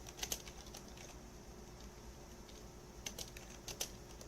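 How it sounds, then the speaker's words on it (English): Sparse computer keyboard typing, heard as a few faint clusters of quick keystroke clicks near the start and again toward the end, with quiet room background in between. "I hear Ben typing"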